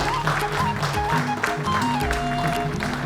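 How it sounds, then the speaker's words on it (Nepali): An audience at a Nepali cultural award ceremony and folk song event claps together in a broad, steady round of applause that lasts throughout, while music plays underneath. "सबैले ताली लगाइदिनुहोस् न ल।"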